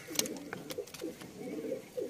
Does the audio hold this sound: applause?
no